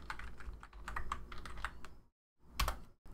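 Quick bursts of keystrokes on a computer keyboard while a layer name is typed in Photoshop Elements, a steady clatter for about two seconds, then a pause and one last short flurry of clicks.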